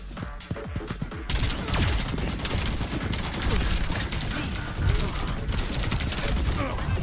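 Dense, continuous gunfire during a shooter video game fight, rapid overlapping shots and impacts sustained for several seconds, loud and busy with a dense mix of game effects.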